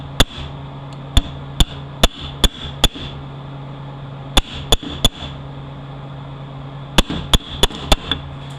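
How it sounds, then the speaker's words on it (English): Sharp, loud strikes hammer a stuck part out of a Toyota U250E automatic transmission valve body, landing in irregular clusters of two to five whacks with short pauses between, over a low steady background hum. "This one's stuck pretty good. See if we can give it a couple whacks."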